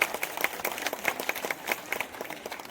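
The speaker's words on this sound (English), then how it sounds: "let us give them a big round of applause" Clapping from a school annual-day audience honouring trophy-winning captains and vice captains, heard as a brisk run of fairly close, rhythmic claps with a lively crowd texture and no speech.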